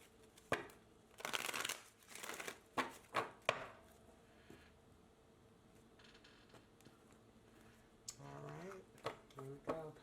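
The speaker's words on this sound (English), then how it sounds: "Give me one more shuffle." Tarot cards being shuffled by hand in a card reading, bursts of riffling and sliding at intervals, close and fairly quiet with pauses between, plus a brief rustle near the end.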